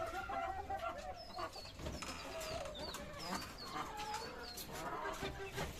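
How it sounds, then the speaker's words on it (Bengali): Native Bangladeshi hens and a rooster cluck and chirp on a farm, with repeated short calls from several birds layered over steady background noise. "এই হচ্ছে আমার দেশি মুরগ"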